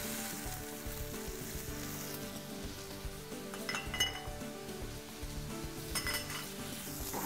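Chopped garlic, shallot and curry leaves fry in a pan for lamb rasam, crackling with a continuous sizzle, while a few metallic clinks of a utensil against the pan ring out, fairly quiet and close.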